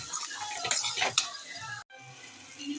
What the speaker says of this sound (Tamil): இப்போ இந்த எண்ணெயிலே நல்லா கிண்டி விட்டுப்போம்